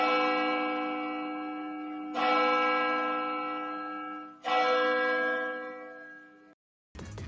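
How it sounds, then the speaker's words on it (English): Three slow, evenly spaced strokes of a loud ringing bell, each tone sustaining and fading before the next strike, ending in a brief cut of other sound. "Let's hit a bell for that, please."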